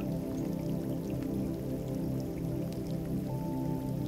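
Steady rain falling, a constant dense patter and hiss with scattered drips, even and unbroken throughout under a soft hum, no voice present.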